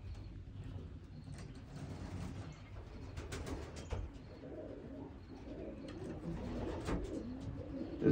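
Racing pigeons coo softly in low, repeated rolling calls, fairly faint and steady throughout, with light background rustle and occasional mechanical clicks.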